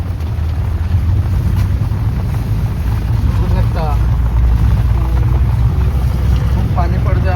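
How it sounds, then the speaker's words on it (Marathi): Heavy rain pours down in a windy thunderstorm with lightning, a dense, steady roar of water and gusting wind filling the whole stretch, loud and close, while a person talks briefly over it. "खूप पाणी पडतोय"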